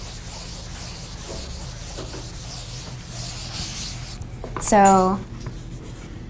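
A pen or marker writes out a math formula on a board or paper with soft, continuous scratchy rubbing strokes close to the microphone, while someone talks over it.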